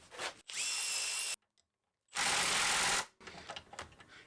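An electric right angle ratchet driver, converted from an air ratchet, whirs in two loud bursts separated by a short silence, followed by rougher clicking as it strains to crack a fastener free.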